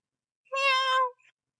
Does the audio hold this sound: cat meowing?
yes